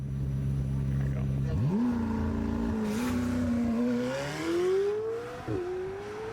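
Sports car engine running and revving, a loud close drone rising in pitch through several gear pulls, with brief dips between them.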